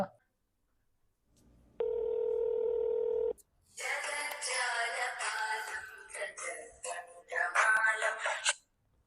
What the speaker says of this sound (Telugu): ఉండు ఫోన్ చేస్తా